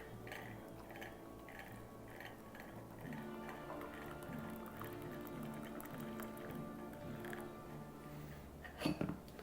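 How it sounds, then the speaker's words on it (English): Hot water pours onto loose-leaf chai tea in a cup, a steady liquid trickle and gurgle with a rising fill tone, close and quiet, followed by a couple of small clinks at the end. "bit of hot water."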